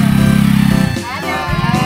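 A motorcycle engine close by at a lady riders' gathering, a loud rough idle and short rev that drops away, with voices talking over it.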